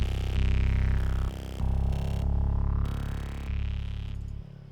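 Synth patch built in Native Instruments Massive with a subtle pitch bend, playing sustained, buzzy chords in repeating phrases with brief gaps, loud and close with no voices.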